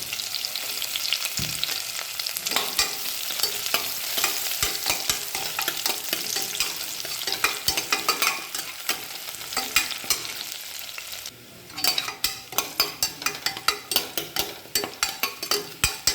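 Onion, curry leaves and green chilli fry in oil for ghee rice, a dense close sizzle with constant spatula scrapes; after a brief dip the stirring becomes louder, with rhythmic clinks against the pan.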